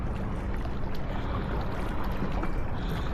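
A race boat crew back paddles on open water, giving a continuous close wash of splashing and churning water with steady noise and no talk.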